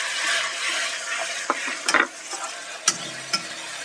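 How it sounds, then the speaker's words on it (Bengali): Tomato paste hits frying ginger and garlic in a pan for chicken curry, bringing a loud, close, continuous sizzle with a few sharp clinks of the stirring spoon against the pan. "এবার এখানে যে আমি টমেটো পেস্টটা করে রেখেছিলাম ওটা অ্যাড করে দিচ্ছি"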